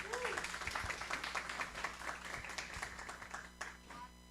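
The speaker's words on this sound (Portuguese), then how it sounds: "Peço uma salva de palmas." An audience applauds at an academic colloquium on the teaching of gymnastics. The clapping is steady but fairly quiet and distant, with a faint murmur of voices underneath.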